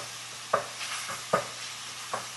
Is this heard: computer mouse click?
no